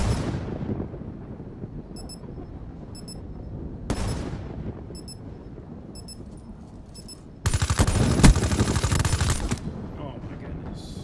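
A gun fires in a console video game: bursts of rapid shots with ringing decays, ending in a louder sustained burst of automatic fire, with some speech mixed in.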